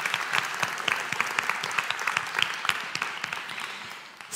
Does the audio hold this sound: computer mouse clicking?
no